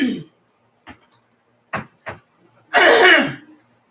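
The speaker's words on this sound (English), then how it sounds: "it feels like I got to clear my throat" A person clears their throat a few times, short scattered rasps followed by a longer, louder harsh throat-clearing burst near the end, close to the mic in an otherwise quiet kitchen.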